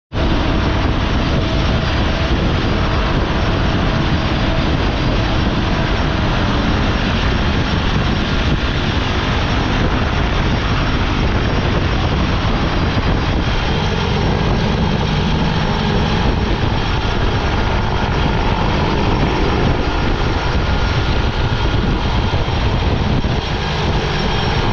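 A skydiving plane's engine roars loud and unbroken from inside the cabin on the climb to 18,000 feet, a dense steady drone with no talk over it.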